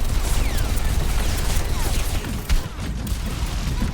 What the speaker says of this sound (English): D.Va bomb.